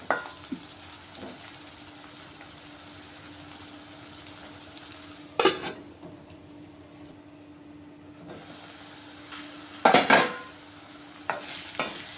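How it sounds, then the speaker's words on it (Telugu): Stuffed ivy gourd curry sizzles gently in a pan, with a quiet frying hiss broken by a few sharp bursts of spoon scraping and stirring. "మళ్ళీ ఒకసారి కర్రీ కలుపుకుంటున్నాను"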